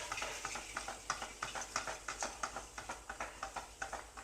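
Prawn biryani masala frying in a pan, stirred with a rhythmic series of quick scraping strokes, roughly two per second, over a soft continuous sizzle, close and fairly quiet.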